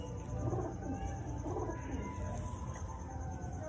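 A male Chotiyal pigeon coos softly nearby in a few low, rolling, repeated phrases, with faint chirps and quiet background noise around it.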